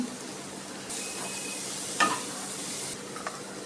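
Cloves, chopped onion, turmeric and salt frying in a pan: a steady close sizzle that swells louder for about two seconds, with a light utensil clink midway and a faint knock near the end.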